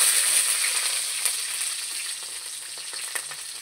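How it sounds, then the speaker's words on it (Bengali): Green chilies fry in a black cumin tempering, giving a close, steady hiss of sizzling oil that fades slightly and is broken by a few crackles and pops. "এর ভেতরে আমি কাঁচা লঙ্কা দিয়ে দেব"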